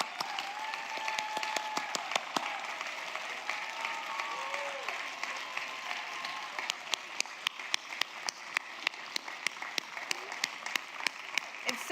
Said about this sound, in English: it's time for thunderous applause for all of our sponsors and volunteers